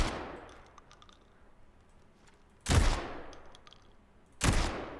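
Shotgun fire in the Delta Force video game, with two loud separate blasts about two seconds apart over faint background game noise.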